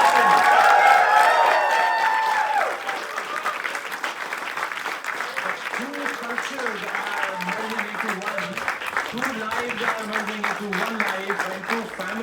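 Guests at a Hindu wedding ceremony give a soft round of applause that fades into lighter clapping, with cheering voices and people talking over it near the start.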